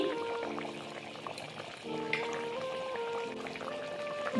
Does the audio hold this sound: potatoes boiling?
yes